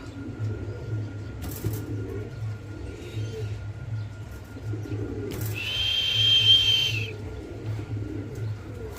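Pigeons at a sale centre give soft low coos in a repeating rhythm close by, over a faint background hum, with a brief higher chirp or squeak partway through.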